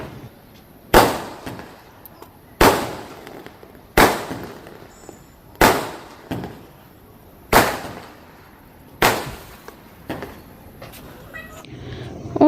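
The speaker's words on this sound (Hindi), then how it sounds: "ये पटाखे फूट रहे हैं" Firecrackers burst one after another at a wedding celebration, seven sharp bangs spaced a second or two apart, each echoing briefly before fading into quiet.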